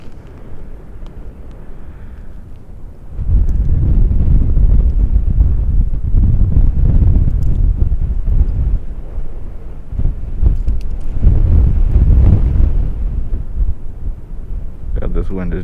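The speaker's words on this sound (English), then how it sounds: "this wind is driving me insane." Strong wind buffets the microphone on a frozen lake during ice fishing for bluegill and crappie, a low roaring rumble that surges loud from about three seconds on and gusts in waves, with no talk over it.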